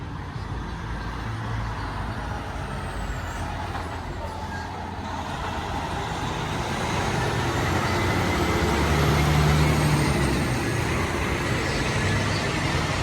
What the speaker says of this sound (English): There's a road that goes, you can see it, cars passing by.